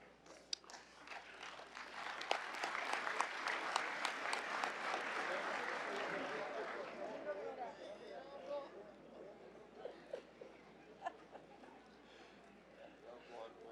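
Applause in a legislative assembly session after a unanimous vote, a burst of many hands that swells over the first seconds and then fades into quieter room noise and murmur.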